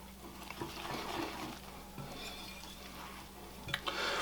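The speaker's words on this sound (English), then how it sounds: "whisk this together just until it's completely combined" Cake batter being whisked by hand with the flour mixture, a wire whisk scraping and tapping against the bowl in uneven, close-up strokes, with no one speaking.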